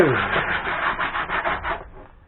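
Sandpaper is rubbed in quick back-and-forth strokes over the dash pad of a 1963 Hillman Husky, making a close, gritty, rhythmic rasping that fades at the end.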